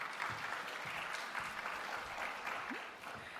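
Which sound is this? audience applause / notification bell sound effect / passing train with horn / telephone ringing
audience applause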